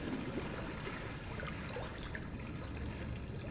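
Water runs steadily through a long hallway in Resident Evil 7, heard as a constant rushing trickle with faint splashes and drips over a low, hollow background.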